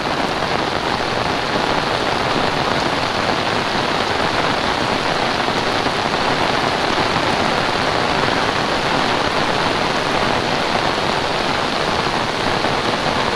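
Heavy rain pours down steadily with storm wind, a dense, loud, unbroken roar of water on surfaces with no talk over it.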